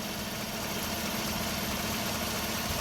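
A 2014 Chevrolet Silverado engine idles with a steady, low rumbling drone, heard close and unbroken throughout.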